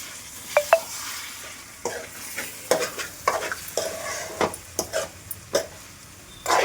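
A spoon stirs curry with chilli powder and salt in a pan, with irregular close scrapes and clinks over a soft sizzle and no talking.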